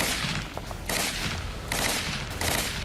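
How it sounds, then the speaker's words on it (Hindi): Heavy gunfire from Israeli soldiers during a Gaza ground operation comes as several dense bursts of rapid automatic shots, each lasting under a second with brief gaps between them, loud and harsh. "तस्वीरों में देखा जा सकता है कैसे इजरायली जवान हमास के ठिकानों पर ताबड़तोड़ फायरिंग कर रहे हैं।"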